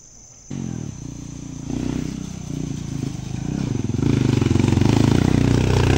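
A motorcycle engine revs and labors along a rough, deep-rutted mining road, a close, loud rattling drone that rises in steps over several seconds with clattering underneath.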